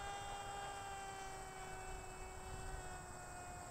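An electric model FA-18 jet whines steadily on a test flight, a thin high-pitched motor tone over constant airy rush, distant and fairly faint throughout.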